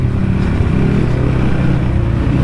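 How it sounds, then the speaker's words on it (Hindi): A motorcycle being ridden on a Sunday ride, its engine droning loud and close in a steady low rumble with wind noise, continuous throughout and no voices over it. "तो ये देखो मेरी बाइक चला रही है मस्त एकदम"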